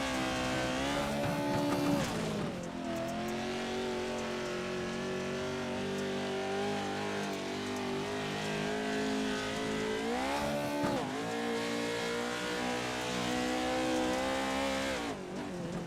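An off-road race vehicle roars around the back half of a dirt track during a Montana Off-Road Series championship night, its engine droning loud and steady with dips and surges as it shifts or lifts around the 2- and 10-second marks.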